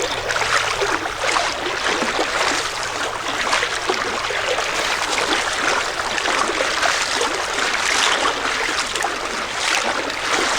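A creek current rushes past a boat moving along the route of the Union Canal near its locks. The water is a steady, dense, hissing wash that runs unbroken and close throughout, with no voices.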